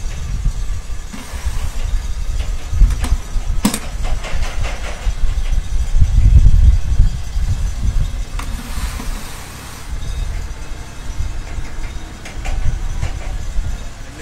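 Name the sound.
pressure washer engine starting and running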